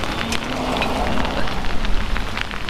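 Rain falling steadily on outdoor surfaces ahead of an approaching hurricane near Miami Beach, a dense hiss of drops with a soft low rumble, fairly close and continuous throughout.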